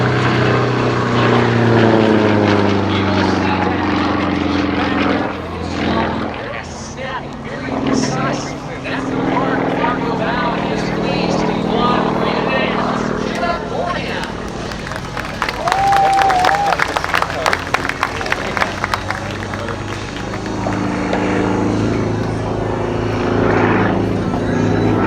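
A Sukhoi SU-31 aerobatic plane performing at an air show at MCAS Cherry Point, its propeller engine droning steadily and loudly throughout, rising and shifting in pitch as it maneuvers, with an announcer talking over it and crowd noise in the background.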